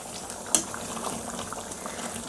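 Green peas masala in a covered pot boils with a steady, soft bubbling and a few small pops throughout.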